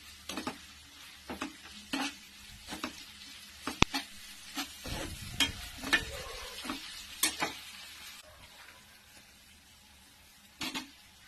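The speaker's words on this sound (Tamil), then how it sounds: "புதினா கொத்தமல்லியோட பச்சை வாசனை போகிற அளவுக்கு நல்லா கலந்து விட்டுக்கலாம்" Mint and coriander leaves sautéed in a pan, with repeated scraping stir strokes and light sizzling, fairly close and quiet, and short pauses between strokes.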